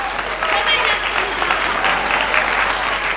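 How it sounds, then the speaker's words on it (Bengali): A group clapping hands at a home gathering, a brisk, continuous burst of close applause lasting a few seconds with voices mixed in. "বাহ, হাততালি হাততালি দাও।"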